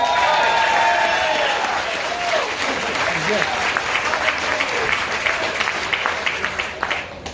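Applause from a crowd at a car dealership ribbon cutting ceremony in Santa Paula, a busy patter of many hands holding steady under a speaker's voice before thinning toward the end.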